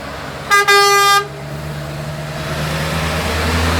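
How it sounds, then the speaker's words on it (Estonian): A car horn sounds loudly in two close blasts, a short toot followed by a longer honk, on a quay in Sundsvall, then fades under steady road or engine rumble. "Jultunult pasundab."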